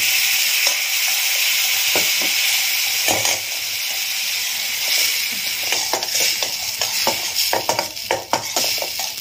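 Loud steady sizzling of ground paste frying in a hot pan for Burmese noodle soup, with scattered clinks and scrapes of a spoon stirring.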